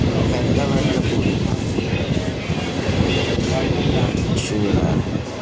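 A MEMU passenger train running on rails between Tenali and Vijayawada on a foggy morning, a loud continuous interior rumble with rolling wheel noise and faint rhythmic clatter, voices talking underneath.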